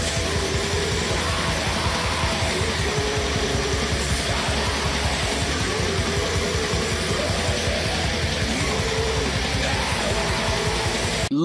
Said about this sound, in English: It has those demonic screams, and it has this cool layering where it's got the high screams and the low screams together.